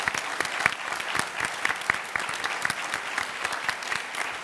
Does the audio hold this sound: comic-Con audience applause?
yes